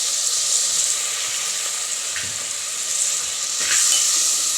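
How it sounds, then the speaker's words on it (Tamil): Tomato, onion and curry leaves sautéing in a pan for a South Indian fish curry, giving a steady close sizzling hiss throughout with a couple of brief stirring scrapes and no voices. "தக்காளி நல்லா வதங்கணும் ஃப்ரெண்ட்ஸ்"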